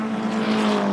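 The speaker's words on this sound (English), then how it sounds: "accelerating out now, up through the gearbox, front wheel drive, a lot of power going on" Front-wheel-drive saloon race car at a 1988 Kirkistown race, accelerating hard through the gears; a steady, fairly loud engine drone holds throughout with no voices.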